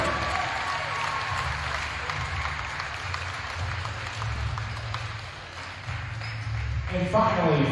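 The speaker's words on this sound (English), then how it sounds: "How about a round of applause for super senior Kylie Rubin?" Crowd applause fills a high school women's varsity basketball gym on senior night, a steady wash of clapping from a large audience that swells again near the end, with a public-address voice faintly underneath.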